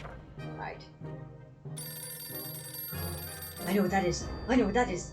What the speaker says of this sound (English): oh, that's just a phone.